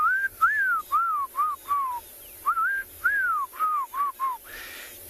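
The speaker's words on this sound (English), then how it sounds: "There's a black-crowned chagra that's calling. That's the one making those whistles." Black-crowned tchagra on an afternoon safari in South Africa giving a series of clear, melodious whistled calls, about a dozen short rising-and-falling notes in quick groups, close and loud over quiet background.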